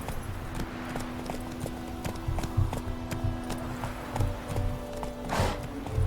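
Horse galloping in the video game Witcher 3, rhythmic hoof clip-clops at a steady pace with a low droning background, moderately loud and close.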